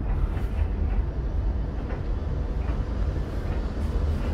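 A Calgary Transit Siemens Duewag U2 light rail train rumbling steadily close by, a dense low roar of wheels and running gear with no voices.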